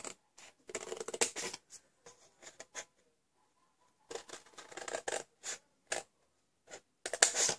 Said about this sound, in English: I'm going to cut up these tabs